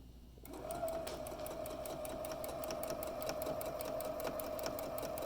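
A sewing machine stitches fabric for a drawstring bag, starting up after a brief quiet moment and then running steadily with a fast, even mechanical rattle and a sustained hum, close and alone.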